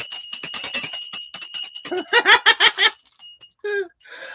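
A small souvenir bell marked United Kingdom rings close and bright, first in rapid jingling shakes, then a few separate, fading strikes.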